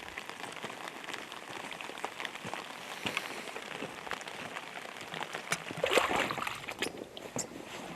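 Rain patters steadily on surfaces at a float hunting camp in Alaska, a dense close drumming of drops with a brief heavier burst partway through, no talking.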